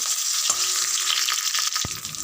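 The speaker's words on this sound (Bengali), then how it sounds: "এবার মাছের মাথাগুলো ভেজে নেব।" Fish heads fry in hot oil with a dense, continuous crackling sizzle, close and steady, broken by a couple of sharp knocks from a utensil.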